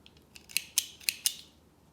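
Blunt scissors snip several times in quick succession, giving crisp metallic clicks close to the microphone in a quiet room.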